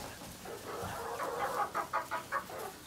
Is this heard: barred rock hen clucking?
yes